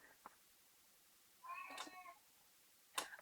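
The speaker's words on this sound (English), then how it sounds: "if you heard my cat in the background yelling his head off" An indoor cat yowls loudly, one long wavering meow in the middle with a short sharp cry near the end and a faint chirp at the start, against a quiet room.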